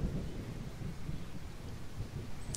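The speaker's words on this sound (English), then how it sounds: "Also, it's raining." Steady rain in the Tower!3D Pro air traffic control game at Philadelphia airport, a continuous low rumbling wash with a soft thunder-like roll, moderately loud and unbroken, with no talking.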